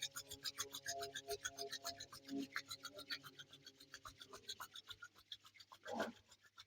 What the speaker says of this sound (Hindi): अपने दोनों हथेलियों का घर्षण करें। Rub your hand.